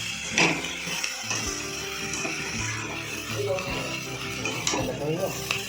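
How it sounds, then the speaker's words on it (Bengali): Vegetables are stirred into fried onions in a pan, with a utensil scraping and clinking over a soft sizzle. The handling is close, with irregular knocks throughout. "আমি এদিকে আমি পেঁয়াজটা ভাজা হয়ে গেছে আমি এবার আস্তে আস্তে সবজিগুলো অ্যাড করে দিচ্ছি"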